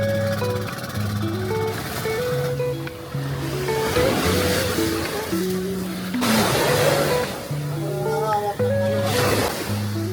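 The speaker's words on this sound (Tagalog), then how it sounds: "Ang lakas naman ng alon." Surf rolling and breaking strongly with a steady wash on a rainy day at Bantayan, Cebu, mixed with voices talking and a melodic tone in the background.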